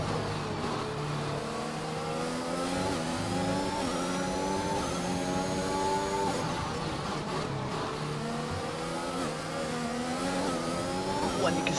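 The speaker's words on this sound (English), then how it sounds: "lighting up the rear tyres on the exit of turn 2" Race car in a video game on the Baku City street circuit spins its rear tyres on the exit of turn 2, the engine revving hard with rising, wavering pitch, loud and continuous with no talk.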